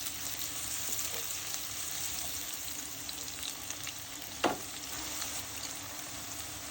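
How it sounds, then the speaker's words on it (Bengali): Sliced onions and green chilies with salt fry in hot oil in a pan, a steady close hiss of sizzling broken by one brief clank of a utensil partway through, with no one talking. "পেঁয়াজ একটু ভেজে নিলাম।"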